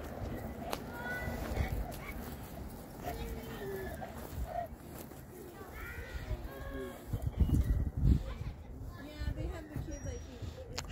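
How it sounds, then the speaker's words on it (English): Several dogs bark and yip faintly in the distance from a city park in Nephi, overlapping in a loose chorus, with quiet talking and some birdsong nearby. "Got a chorus of dogs going on."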